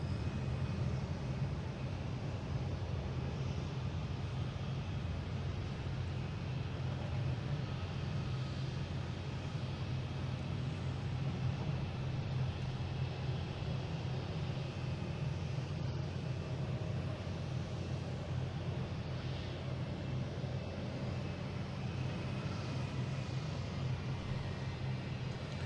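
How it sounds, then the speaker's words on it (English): A WestJet Boeing 737 takes off at Boston Logan, a steady distant jet roar holding level for the whole stretch, low rumble dominant with broad hiss above and no voices. "we have WestJet, 737, taking off to Calgary"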